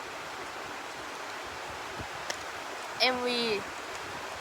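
Rain falls outside as a steady, soft hiss of drops spreading evenly throughout, with a short spoken voice breaking in near the end.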